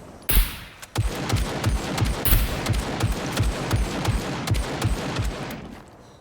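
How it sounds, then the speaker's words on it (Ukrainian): Gunfire in the survival video game SCUM, a rapid string of loud, close shots with sharp broadband cracks and a few heavier bursts, firing continuously for about six seconds. "Він дивиться, він не бачить, звідки по ньому стріляють."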